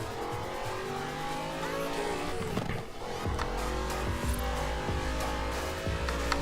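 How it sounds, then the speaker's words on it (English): Car engine in the video game Forza Horizon 4, revving steadily through a handbrake slide with a brief scrape in the middle, loud and continuous with no talk. "It actually slides alright when you pull the handbrake."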